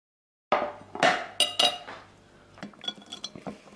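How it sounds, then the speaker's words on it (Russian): Cucumber and carrot salad, dressed with a little oil, being stirred in a dish: several sharp clinks and clatters of a utensil against the dish, followed by quieter, scattered scraping and tapping. "теперь нужно все это перемешать"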